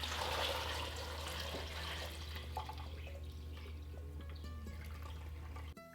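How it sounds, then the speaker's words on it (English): About three quarts of water poured into a pot for caldo verde soup, a faint steady splashing stream with a low hum beneath, tapering slightly before stopping with a clunk near the end. "About 3 quarts of water that I'll put in here."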